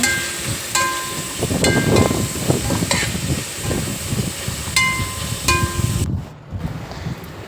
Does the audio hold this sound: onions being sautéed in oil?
yes